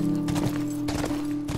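Horse hooves clip-clop in the video game The Last Of Us Part II, a few uneven, soft thuds over a steady humming game background, fairly quiet and without talk.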